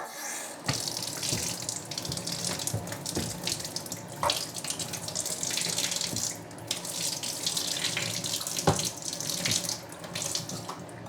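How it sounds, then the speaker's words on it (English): Tap water runs steadily over a dryer lint screen, a close continuous splashing rush with occasional small clicks and knocks, no voices. "And one easy test you can do just to confirm is to run water on top of it."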